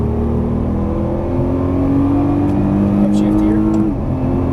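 A Nissan GT-R accelerates down a straightaway, a loud steady engine drone rising gradually in pitch before dropping near the end, with a voice speaking over it.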